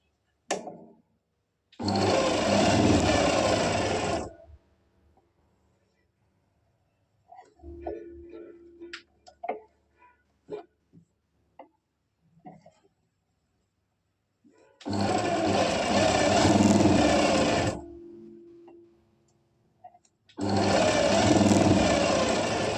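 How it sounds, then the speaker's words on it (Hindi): A sewing machine runs along lightly folded palazzo trouser fabric in loud, steady bursts of a few seconds each, with quieter handling clicks and rustles in the pauses between runs. "ये हमने पूरे में हल्का फोल्ड करके सिलाई लगा ली है।"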